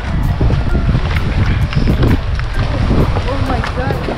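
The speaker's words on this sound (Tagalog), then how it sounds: "So, sama kayo guys, sakay namin bangka." A motorized outrigger bangka rides over the sea off Biliran, heard as a loud, constant roar of wind and engine rumble with water splashing, while voices are faintly audible underneath.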